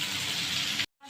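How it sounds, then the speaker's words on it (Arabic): Water poured into a pot of onion frying in oil, a loud steady rushing sizzle for most of the clip that cuts off abruptly, then resumes faintly after a brief silence. "نحط عليها ميه،"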